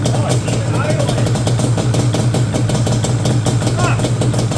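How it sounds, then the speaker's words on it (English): A Yamaha Banshee ATV engine idles loudly and close by, a continuous low rumble with a rough, chugging texture throughout. "Oh, it's even idling."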